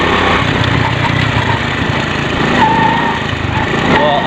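A motorcycle engine running on the road in dense fog, a steady close droning buzz that continues throughout with little change in pitch, with no clear voices over it.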